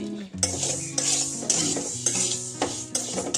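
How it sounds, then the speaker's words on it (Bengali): Spices and dried red chillies dry roasting in a pan, with repeated rhythmic scraping and stirring strokes close up and a light sizzling texture, no talking. "ড্রাই রোস্ট শুকনো লঙ্কা"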